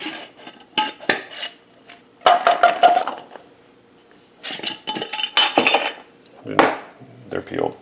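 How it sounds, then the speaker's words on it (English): Garlic cloves rattle and clatter inside a closed jar being shaken to loosen their skins, several bursts of hard knocking and clinking separated by short pauses. "Here's an easy way to peel garlic cloves. Put into a jar."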